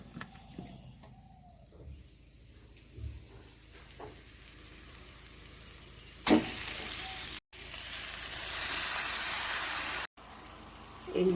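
Skin-on chicken goes into a hot pan and sets off a sudden loud sizzle, which steadies into a bright hiss with brief breaks. Before that, quieter kitchen clatter is heard.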